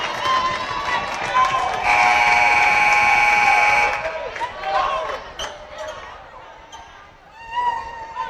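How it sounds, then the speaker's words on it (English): A loud, sustained buzzer blares for about two seconds at a women's college basketball semifinal between Chipola and Northwest Florida, with crowd noise, squeaking shoes and a commentator talking around it. "As the buzzer sounds"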